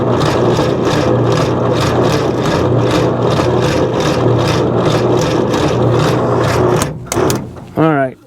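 An M151A1 engine with no batteries fitted is cranked by its starter in a steady, rhythmic churning, loud and close, for about seven seconds before it stops, followed by a few scattered clanks and a brief whirr.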